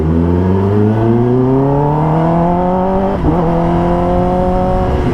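A Kawasaki ZX10R KRT 2026 sportbike engine revs loud and close, its pitch climbing smoothly with a brief dip and recovery partway through.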